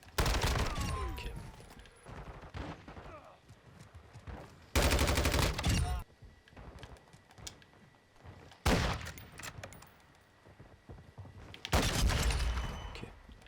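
Gunfire in the video game Modern Warfare 2 comes in several loud automatic bursts separated by quieter gaps, heard close, with faint speech in between.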